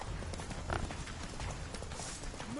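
Horse hooves galloping in The Witcher 3: Wild Hunt, a quick steady clip-clop of game audio played at low volume with no speech.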